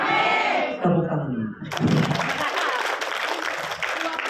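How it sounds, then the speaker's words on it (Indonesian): Seminar audience bursting into applause and cheering after a call for it: a voice trails off, then loud, dense clapping mixed with crowd shouts takes over and carries on steadily. "Tepuk tangan."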